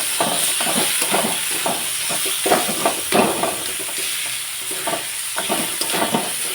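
Tomatoes fry with garlic and coconut for methi matar, a loud steady sizzle and hiss with repeated rhythmic spatula scrapes and stirs close up, no voices.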